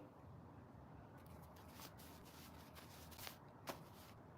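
A deck of cards is shuffled close by, giving soft, faint riffling and flicking bursts over a quiet background, with a couple of sharper snaps toward the end.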